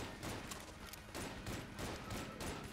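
Rapid barrages of gunfire from an enemy serpent in the bullet-hell game Enter the Gungeon, dense overlapping shots that keep on loudly throughout with brief pulsing bursts.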